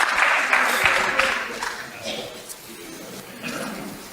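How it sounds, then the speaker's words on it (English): An audience at a value-judging event claps briefly. The applause is loudest at first, then fades to scattered claps, with voices and a little cheering mixed in. "Let's give them a round of applause."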